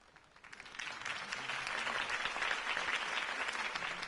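A crowd applauds after a mayoral campaign speech for Harvey Dent, with dense clapping swelling in over the first second and holding steady and fairly loud to the end, no talk over it.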